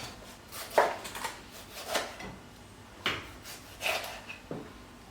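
A knife finely chopping a tomato on a board, giving a handful of spaced, fairly close knocks and cutting sounds over about five seconds, with no voices.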